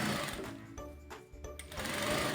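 A sewing machine backstitching across a dish towel, its close, loud, rapid mechanical stitching rattle running in short bursts with brief pauses as the direction reverses.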